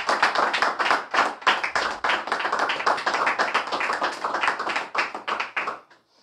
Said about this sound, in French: Et nous acclamons pour la gloire de Dieu.